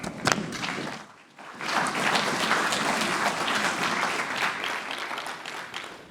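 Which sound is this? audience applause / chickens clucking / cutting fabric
audience applause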